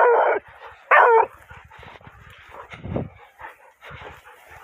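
Dogs fighting up close, loud sharp barks and snarling yelps in two bursts at the start, followed by lower growls, whimpers and scuffling noises.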